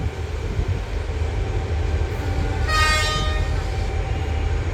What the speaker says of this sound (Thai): 986มาแล้ว เสียงวีดจาก986ครับ